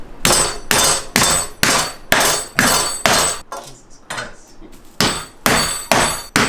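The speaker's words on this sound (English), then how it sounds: "We're just gonna pound it, tenderize it a little bit, sort of even out." A mallet pounds chicken breast flat to tenderize it for paillard. About a dozen loud, close, sharp thuds come in a steady rhythm, with a brief pause in the middle.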